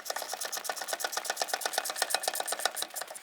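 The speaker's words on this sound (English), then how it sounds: "Let's go ahead and snug them up and torque them to 74 foot-pounds." A ratchet snugs the rear hub bolts of a 2014-2019 Toyota Corolla in a crisscross pattern during a wheel bearing and hub replacement, making fast, even clicking close by for about three seconds with no talk.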